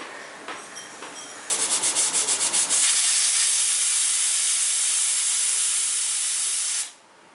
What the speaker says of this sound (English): 5 to 6 whistles, or let it pressure cook for about 5 minutes or so till it's cooked nice and soft.